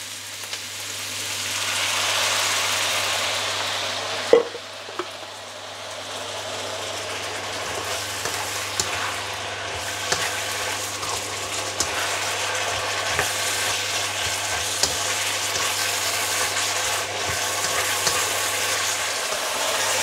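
A little water hits frying food in a hot pan, bursting into a loud hiss that settles into a steady sizzle with scattered crackles and pops, heard close with no talking.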